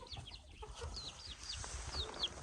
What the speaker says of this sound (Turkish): Hala bu şu civciv sesi çıkartıyor bak.